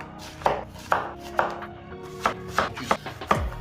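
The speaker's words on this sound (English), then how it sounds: "So I have a couple of Veggie onions, and what we're going to do, we'll cut these up" Knife chopping onions on a cutting board, about eight distinct sharp chops at an uneven pace, close and alone.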